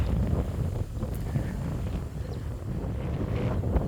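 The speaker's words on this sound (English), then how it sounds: "It's very windy today." Steady, blustery wind buffets the microphone throughout, a continuous low rumbling roar.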